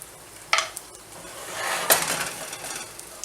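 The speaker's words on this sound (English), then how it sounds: "I'm going to go ahead and put my onions in it" Onions being dropped into a pan of cooking green beans make a couple of clattering thuds and scrapes over a soft, steady sizzle, close by.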